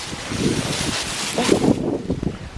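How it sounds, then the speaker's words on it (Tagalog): Strong storm wind buffets the microphone in rough, continuous gusts on an American farm during harvest, loud and close, with no talking. "Ay, ang hangin."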